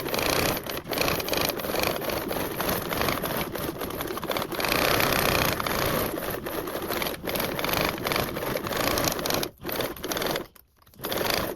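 A sewing machine bastes around the whole perimeter of fabric with a narrow seam, a loud close continuous whirring run with a few brief pauses and stops toward the end.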